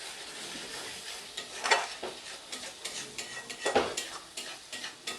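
Masala for a mutton and potato curry fries and gets stirred in a pan, a steady close sizzle broken by scraping stirs, with two louder clanks of the spoon against the pot.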